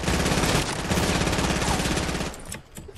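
Rapid automatic gunfire from a Fortnite match fills the clip, dense and loud for over two seconds before thinning out near the end.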